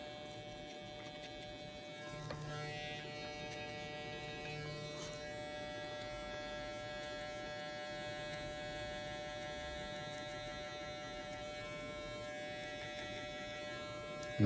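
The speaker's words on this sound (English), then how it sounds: "Same thing, starting with the clipper open." Electric hair clipper running on a zero guard while cutting a stretch fade, a steady close buzzing hum held throughout with no talk.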